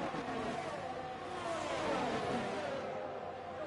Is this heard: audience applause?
no